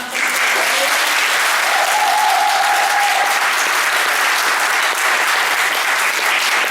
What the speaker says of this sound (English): can we give Nigel and Pat a fantastic applause?